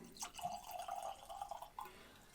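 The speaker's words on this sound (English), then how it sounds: "Let's pour a Glen Moray Twisted Vine cognac cask." Glen Moray Twisted Vine cognac cask whisky pours into a glass in a faint, steady trickle with a slight ringing tone, close by and quiet, ending with a small splash.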